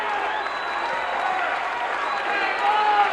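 A wrestling arena crowd cheers and roars steadily through a 1984 bout between Butch Reed and Tito Santana, with a commentator talking over the noise.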